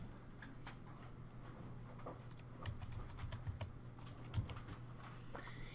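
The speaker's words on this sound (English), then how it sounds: "And I typed in 3269 and hit enter" Numbers are typed into a spreadsheet on a computer keyboard, scattered faint clicky keystrokes in an irregular rhythm with a slightly louder final key press, in a quiet room with no speech.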